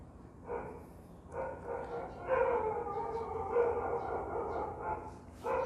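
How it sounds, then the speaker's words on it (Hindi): Several dogs bark, yip and howl outside in an agitated scuffle, the noise rising and overlapping at moderate distance and continuing through most of the stretch. "कुत्ते भौंक रहे हैं यार बाहर"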